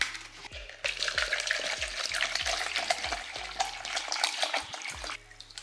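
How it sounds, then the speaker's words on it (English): Distilled water poured onto a propagating Philodendron Giga plant, a close splashing trickle with repeated knocking and clattering sounds, ending in a quieter drip. "So I'm gonna pour some distilled water."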